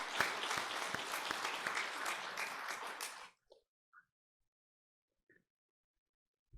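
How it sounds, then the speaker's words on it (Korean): A church congregation at a New Year's Eve service claps together in a dense burst for about three seconds, then stops abruptly, leaving near silence with a few faint stray sounds. "박수 한번 하겠습니다"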